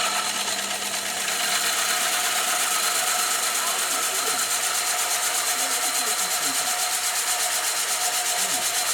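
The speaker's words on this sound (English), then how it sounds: "I'm going to cut a disc out of it using my ridiculously large hole saw" A large hole saw cuts a disc from sheet acrylic, giving a steady, loud, continuous grinding rasp that holds without a break.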